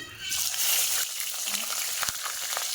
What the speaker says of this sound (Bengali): তো এখন ফার্স্টে আমি মাছগুলো অল্প ভাজা করে নিই